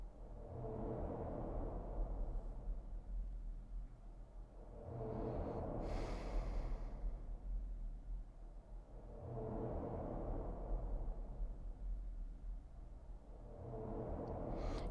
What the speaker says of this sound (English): It's fine, the forest is just breathing.